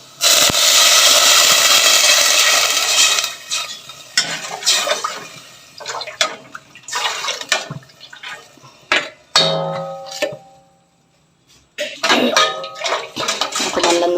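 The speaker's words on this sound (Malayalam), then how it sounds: "പിന്നെ നമ്മളതിലേക്ക് ഈ രണ്ടാം പാൽ ഒഴിച്ച് കൊടുക്കുക" Second coconut milk is poured into a curry with curry leaves. A loud, continuous liquid rush opens the sequence, followed by broken splashing, stirring and clinks of a utensil on the pot, with a short quiet gap near the end.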